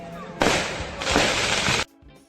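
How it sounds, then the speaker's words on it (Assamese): Firecrackers going off at an Assamese wedding: a dense, loud burst of rapid crackling pops that runs for over a second, pauses briefly, then crackles again before stopping abruptly. "দৰা ঘৰীয়া আৰু কইনা ঘৰীয়া সকলে ফটকা জ্বলাইছে"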